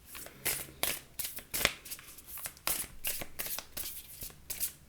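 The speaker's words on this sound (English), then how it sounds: "we'll pull a card from the Quantum deck here" Quantum oracle card deck being shuffled by hand, quick repeated riffling bursts of cards close up, fairly quiet, with no talk.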